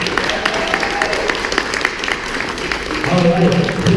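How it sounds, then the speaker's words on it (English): Audience at a comic con in Hamilton applauds a guest with steady, dense clapping from a crowd that swells louder toward the end, while a voice speaks over it. "Holy applause, it's Burt!"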